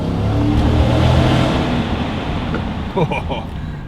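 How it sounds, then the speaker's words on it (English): A 2021 Ford F150 with a naturally aspirated V8 droning steadily while driving, intake and road noise rumbling continuously under someone talking, with the pitch shifting slightly midway. "The intake noise sounds amazing under bridges and tunnels"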